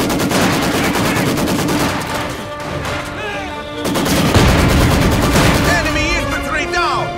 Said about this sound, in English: Enemy infantry firing on me. We are moving. Moving out. We are taking fire!